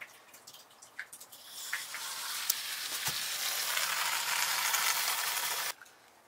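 Tap water pours from a van shower fixture, a steady hissing spray that builds gradually, holds for several seconds and then cuts off abruptly, with a few faint clicks and drips beforehand.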